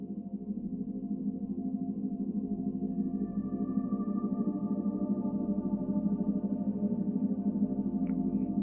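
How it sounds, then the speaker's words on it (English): An alpha-range isochronic tone entrainment session descending from 13 Hz to 10 Hz plays as a steady pulsing synthetic tone over a low drone, constant and fairly quiet throughout. "So as you could hear, that has a isochronic tones track, that has a soundtrack with entrainment on it."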